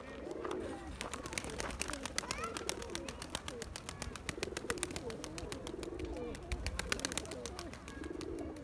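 Pigeons coo in low, repeated rolling calls over a steady outdoor background, with occasional chirps and rustling nearby.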